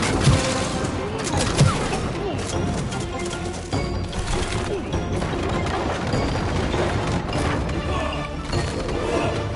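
Shooting in the It Takes Two video game: a busy, loud run of rapid shots and crashing impacts layered with game music, while players talk over the action.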